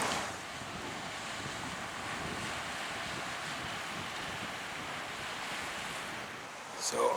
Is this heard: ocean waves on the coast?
yes